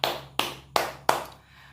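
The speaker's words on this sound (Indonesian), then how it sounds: "Tepuk tangan buat mbaknya" Four separate, evenly spaced sharp claps or taps, close and fairly quiet, each decaying quickly into silence, with nothing else heard.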